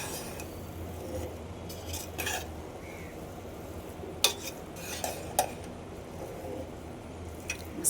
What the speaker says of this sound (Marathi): आता आपण या गाजरच्या हलव्याला एकदा परतून घेऊया